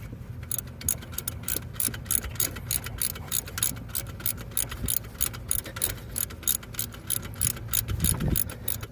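Rapid ratcheting clicks from a wrench tightening a bolt on the alternator of a 1999 Toyota Avalon XLS, a close, steady run of sharp metallic ticks over low mechanical rumble.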